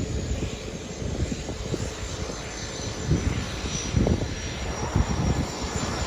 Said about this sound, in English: aviões que partem da água